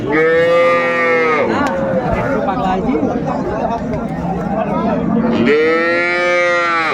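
A cow moos loudly twice, once at the start and again near the end, with people chattering in the background between the calls at a cattle market.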